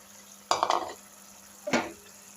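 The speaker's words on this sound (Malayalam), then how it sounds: "നാരങ്ങ ഇട്ടത് ഇളക്കി മാറ്റി" Lemon pieces stirred into a boiling lemon pickle mixture for an Onam curry pickle: two short bursts of clattering, scraping stirs in a pot over a faint steady bubbling background.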